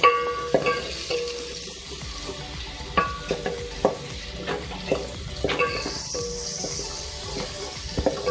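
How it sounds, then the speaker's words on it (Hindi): Onions fry in a pan with a steady sizzle while a spoon repeatedly clinks and scrapes against the metal, giving an irregular rhythm of close, clear stirring knocks; the dish is a green onion and chicken recipe. "इसको थोड़ा सा फ्राई कर लें।"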